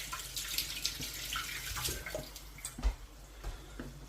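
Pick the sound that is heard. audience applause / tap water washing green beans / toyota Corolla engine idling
tap water washing green beans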